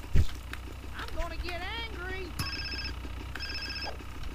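Mobile phone ringing in Grand Theft Auto San Andreas: a repeating electronic ring tone in two bursts, heard among game speech, engine rumble and a low background drone.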